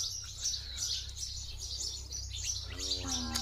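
Small birds in a farm field chirp and tweet in quick, repeated bursts, moderately close, over a steady low hum and faint background noise.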